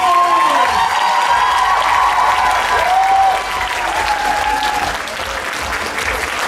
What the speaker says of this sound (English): Let's have one more round of applause for our cosplay!